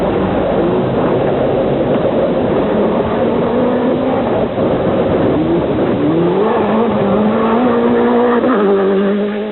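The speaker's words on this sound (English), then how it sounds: "Cars reach speeds approaching 200 kilometres an hour on some of the straights." Rally cars at the 1993 WRC Rally Australia, including Toyotas and a Subaru, race flat out along a straight at near 200 km/h, with loud, continuous engine roar and rising revs as cars pass close by.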